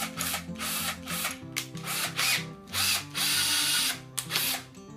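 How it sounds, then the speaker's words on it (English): A power drill with a large bit, about 10 mm, drilling into a Gretsch acoustic guitar, whirs in several bursts, revving up and down between short pauses, close and loud, with a grinding bite as the bit cuts. "It's a large, large drill bit."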